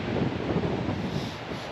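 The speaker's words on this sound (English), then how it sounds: "the wind's just whipping in from the mountains over there" Strong wind whips in from the mountains across an exposed lakeside at Lake Camp in the Ashburton Lakes, roaring as a steady, loud buffeting rush against the microphone for the whole stretch.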